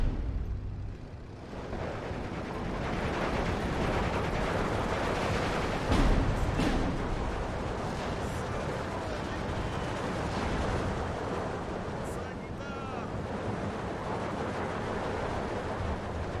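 Rocket artillery barrages in the WW2 strategy game Steel Division 2, a dense continuous rumble of launches and distant blasts with a few sharper bursts, loud and sustained throughout.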